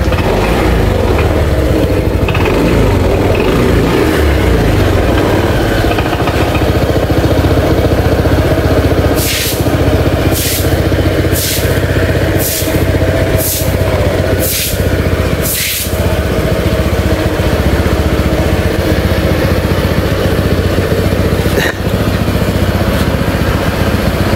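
A damaged vehicle's engine runs steadily after starting again, a loud low idle throughout with a quick series of sharp revs or bursts in the middle and no talking.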